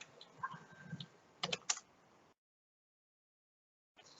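A computer keyboard typing a Linux command, with a few soft keystrokes and then a quick cluster of louder clicks, close and quiet, followed by near silence and a brief return of faint tapping.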